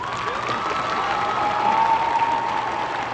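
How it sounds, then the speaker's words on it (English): Graduating class of 2025 claps hands together at a ceremony, a dense steady crowd applause with light cheering, sustained throughout. "class of 2025, I want you to clap your hands if you're graduating today."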